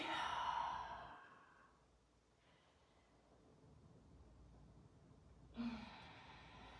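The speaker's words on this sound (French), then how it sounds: "On peut bâiller." A yawn during a morning yoga session: one long, breathy exhale near the start, heard alone and close, then fading into near silence with a soft breath at the end.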